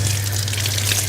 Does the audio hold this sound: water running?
yes